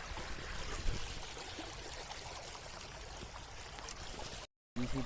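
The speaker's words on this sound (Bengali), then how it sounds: "ওইখান থেকে স্রোত যাচ্ছে" Water current running through a narrow channel at night during fishing, a steady rushing, trickling flow heard close, with a brief dropout near the end.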